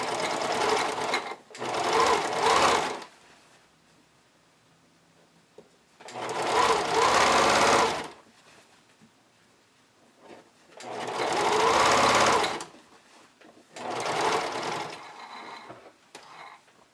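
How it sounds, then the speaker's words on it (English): Sewing machine top stitching swimwear with a twin needle, four bursts of rapid close mechanical stitching each lasting about two seconds, separated by quiet pauses. "I like using the twin needle for doing my top stitching on swimwear."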